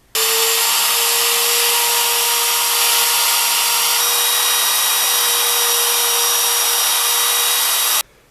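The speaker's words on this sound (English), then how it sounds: "I want to cut out a few wee bits with a router." A router cuts small notches in wood while shaping a baby rattle, a loud, steady high whine that holds unbroken for about eight seconds before cutting off abruptly.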